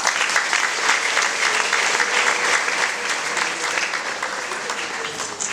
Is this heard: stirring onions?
no